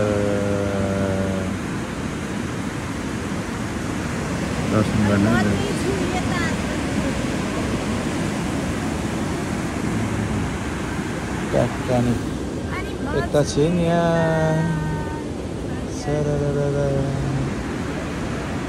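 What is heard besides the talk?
rushing water of the Seti River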